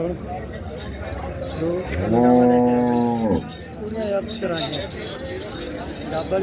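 Cows moo loudly and up close at a busy livestock market in Dabwali, with one long drawn-out low call rising over a background of crowd chatter and people talking.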